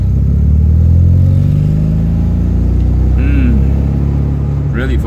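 A 1979 Alfa Romeo Alfetta 2.0 on an evening drive, its engine giving a loud, continuous low rumble up close, with a brief rise in revs partway through and a quick rev blip at the end.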